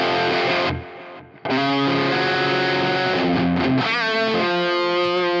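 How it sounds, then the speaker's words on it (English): Overdriven electric guitar through a Neural DSP Quad Cortex delay effect plays a phrase that repeats and trails off in echoes, then picks up again with sustained notes ringing into each other. "Okay, here's our delay."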